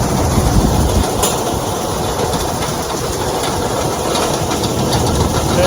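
A large combine harvester harvests maize, its engine and threshing machinery making a loud, steady mechanical roar with rattling texture, running close and continuously without talk.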